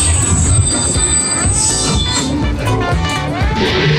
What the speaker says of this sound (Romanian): Iată și metroul nostru.